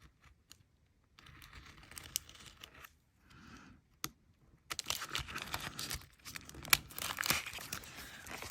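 A blade trims a piece of paper card for an Easter die-cut craft project, giving close, dry crinkling and scraping sounds in short bursts with brief pauses, louder toward the end.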